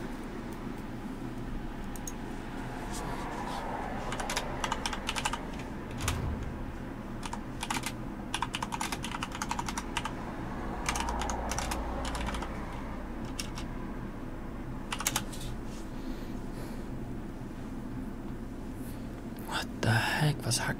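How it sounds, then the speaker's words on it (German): Rapid, irregular clatter of typing on a computer keyboard runs steadily throughout, close and clear, with quiet whispering and low background noise underneath. "Was hackt er da auf seiner Tastatur rum?"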